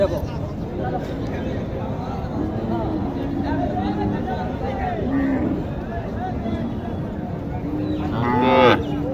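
A cow moos near the end at a cattle market in Naogaon, Bangladesh, a loud drawn-out low call rising over steady farmyard noise and background chatter.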